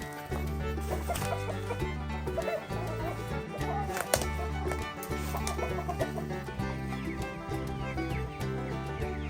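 Hens cluck and chatter close by on a homestead over a steady humming background, with overlapping calls throughout.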